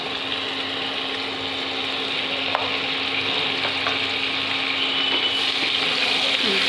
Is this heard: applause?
no